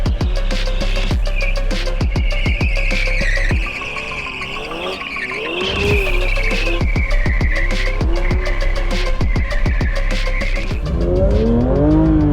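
A Porsche 911 GT3 RS drifts on a race track, its engine roaring loud and close while the tires squeal in long, wavering screeches through the slide, with no talking over it.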